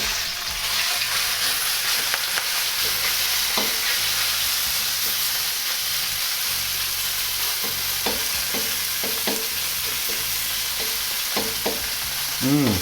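Pork hits two tablespoons of hot oil in a pan and fries with a continuous loud sizzle, punctuated by occasional spatula scrapes and stirring clatters near the end.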